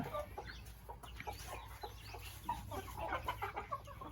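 Chickens cluck softly and steadily over a busy farmyard background, with short scattered calls overlapping throughout.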